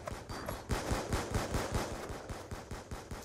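Rapid automatic gunfire from Black Ops 2 Search and Destroy play, a fast even burst of sharp shots, about a dozen per couple of seconds, continuing steadily with no talk over it.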